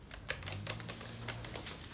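Typewriter keys strike in a quick, uneven run of sharp clacks, close and moderately loud, with a low steady hum beneath, heard in a small office.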